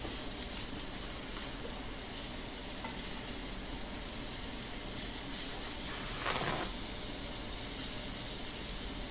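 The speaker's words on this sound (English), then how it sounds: "Couple minutes in and sizzling real good, sounding real good." Steady, dense sizzling and crackling of rainbow trout fillets frying skin-side in a hot pan, continuous and close, with a brief louder hiss near the end.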